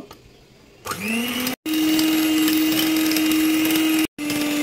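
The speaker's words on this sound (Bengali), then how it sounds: "এখন আমি ডিমের সাদা অংশটাকে বিট করে নিব।" An electric beater whisks egg whites for a cake, switching on into a steady high motor whine with a constant pitch, cutting out briefly twice before starting again, loud and close.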